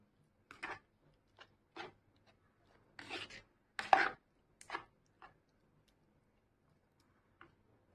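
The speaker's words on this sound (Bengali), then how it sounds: "তার থেকে বেশ কিছুটা পরিমাণে রসুন ভালো করে কুচিয়ে নিয়েছি" Knife chopping peeled garlic finely on a board: a series of sharp, separate taps spread unevenly across the stretch, some louder than others, with quiet gaps between them.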